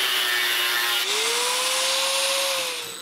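Power tool cutting the ends off steel lag screws, a loud continuous grinding whine whose pitch rises and holds steady before easing off at the end.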